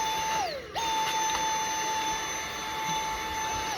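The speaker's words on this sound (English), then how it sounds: "First time I'm seeing a vacuum like this one." A Dyson vacuum cleaner runs loudly up close, a steady high-pitched motor whine that briefly dips in pitch and then recovers to a constant drone.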